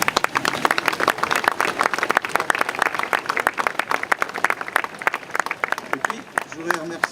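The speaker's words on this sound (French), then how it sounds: "je crois qu'on peut l'applaudir." Guests at a sculpture inauguration applaud a sculptor's son, sparse but sustained clapping with distinct individual claps, moderately close, and faint voices mixed in toward the end.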